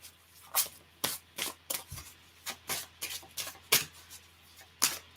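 Dharma cards being shuffled by hand in a quiet room, a string of soft, close riffling and sliding bursts at an uneven pace, with no voices.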